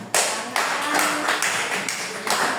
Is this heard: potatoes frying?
no